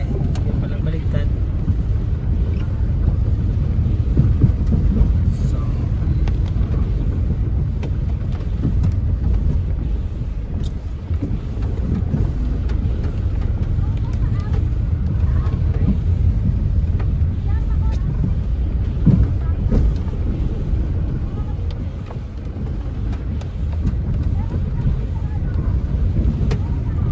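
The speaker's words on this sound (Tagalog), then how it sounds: "Malakas ang hangin sa labas." Strong wind and rain outside, a dense, steady low roar and wash of weather lasting the whole stretch with only slight swells, with no talk.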